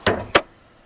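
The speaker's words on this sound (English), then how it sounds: "Here we're going to pop the hood." The hood of a 2011 Hyundai Elantra Limited pops open with two quick close metallic clunks, the release latch and then the hood unlatching, followed by near silence.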